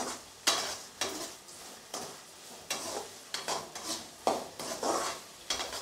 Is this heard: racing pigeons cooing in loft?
no